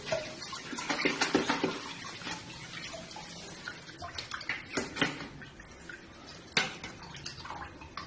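Water and salt poured into a cooking pot while preparing chicken kabsa, a steady splashing pour with scattered clinks and sharper splashes, close and moderately loud, with no talking.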